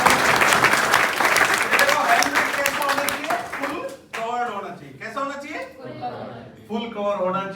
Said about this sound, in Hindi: जोरदार तालियां बजा दो एक बार।